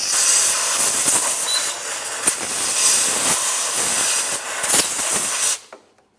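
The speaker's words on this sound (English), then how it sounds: "I'm using some compressed air." Compressed air blasts close up to clean the area around the transmission input speed sensor on a 2015-2019 Subaru Outback, a loud hiss in several pulsing bursts that cuts off abruptly.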